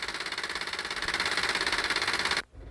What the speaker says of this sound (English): the engine's just making that noise to remind us that it's there